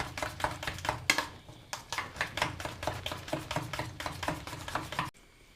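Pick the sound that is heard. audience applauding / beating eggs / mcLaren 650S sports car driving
beating eggs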